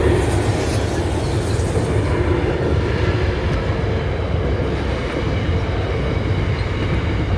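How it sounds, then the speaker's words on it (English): A freight train rumbles past close by, a loud, continuous roar of rolling rail cars that holds steady throughout with no pauses. "There goes a freight train."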